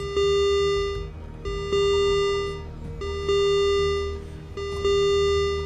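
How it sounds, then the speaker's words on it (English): A station alarm in the space sim Ostranauts sounds in repeated loud, steady electronic tones, each lasting about a second and a half, with brief breaks between them and no talk over it. "It might be an alarm for this station here that's going off."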